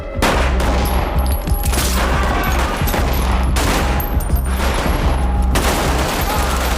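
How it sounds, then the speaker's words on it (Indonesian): Gunfire is exchanged in a dramatized 2018 Mumbai hotel attack, with dense, loud bursts of automatic shots and echoing reports filling the scene continuously. "Dan terjadilah baku tembak."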